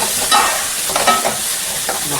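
Tomatoes cooking down in hot oil in a pan, a close, steady sizzle broken by a few scraping stirs, with no voices.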